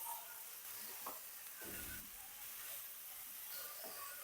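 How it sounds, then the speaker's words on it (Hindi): A spoon stirs chicken kachori filling with chopped coriander in a hot pan, giving a soft continuous sizzle with a few faint scraping strokes, steady and low. "चम्मच फेर के हम इसको अच्छी तरह से अब मिक्स कर लेंगे"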